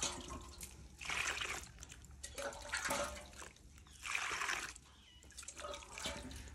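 Water is poured into mud being mixed for plastering a courtyard floor, a steady splashing gush that rises and falls in several surges, fairly close and moderately loud with no talk over it.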